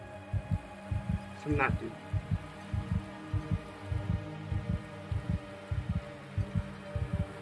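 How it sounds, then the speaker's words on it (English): A fast heartbeat sound effect in a video game, a steady rapid run of deep low thumps in pairs filling the clip, with a brief voice speaking over it partway through. "Fast heartbeat."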